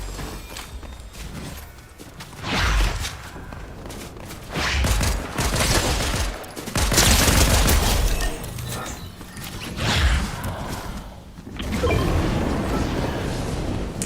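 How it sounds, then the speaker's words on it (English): Repeated tactical pistol fire in Fortnite, several clustered bursts of sharp shots separated by short pauses, loud and close with mechanical clatter and impact noises between volleys. "John Wick with this tactical pistol. I just keep shooting literally everybody."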